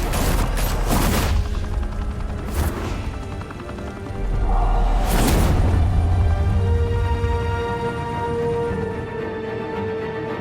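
Bursts of gunfire in a Batman video game set in Gotham, several sharp volleys and rattling shots spread across the stretch, loud and close over a continuous background drone.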